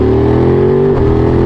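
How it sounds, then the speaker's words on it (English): A Ducati Monster motorcycle braking to a stop, its engine a loud, close, steady drone that dips slightly toward the end. "Let's try to stop this bike right now."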